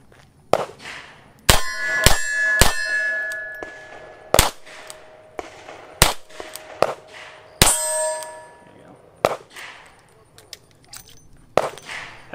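Taurus Defender 856 revolver firing 130-grain Winchester rounds at steel targets about seven yards away: a series of sharp, loud reports, several followed by ringing metallic clangs, spaced irregularly with a reload pause and some talking.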